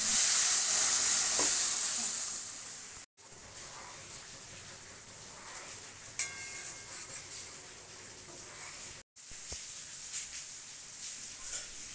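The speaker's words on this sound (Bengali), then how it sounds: "তেলটা হয়ে গেছে, ডালটা ঢেলে দিলাম।" Dal poured into hot oil with green chillies and chilli powder sizzles loudly at first, then settles into a softer steady frying hiss with occasional bubbling and stirring, no voices.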